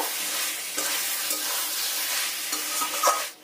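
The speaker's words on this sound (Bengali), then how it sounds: "এই সময় ভেজে রাখা আলুগুলো দিয়ে দিতে হবে। এগুলো দিয়ে ভালো করে কষিয়ে নেব।" Fried potatoes tossed with spices in hot oil for a home-style biryani, a dense continuous sizzle with stirring scrapes, close and steady without talk.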